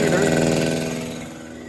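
A 2 horsepower air compressor motor runs steadily on a 6.5 kW 120/240V inverter generator, a loud continuous mechanical hum with harmonic drone that eases slightly toward the end; a voice is audible alongside.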